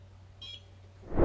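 A single short, faint electronic beep from a microcurrent skin tightening device sounds in a quiet room, followed by a soft rustle.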